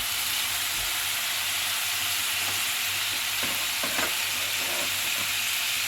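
Ginger garlic paste fries in ghee in a kadai for chicken karahi, a steady close sizzle with a few stirring scrapes near the end, no voices.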